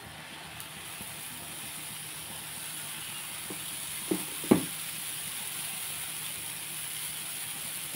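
Dosa batter sweetened with jaggery sizzles in oil on a pan over low heat, a steady soft frying hiss with a couple of brief clicks near the middle.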